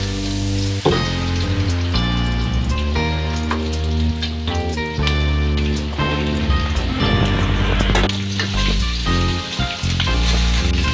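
Chunks of chopped pork pata and onion hit a hot pan and sizzle loudly and steadily, with oil crackling close by and music playing underneath.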